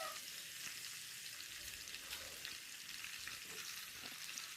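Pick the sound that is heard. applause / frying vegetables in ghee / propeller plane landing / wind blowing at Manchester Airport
frying vegetables in ghee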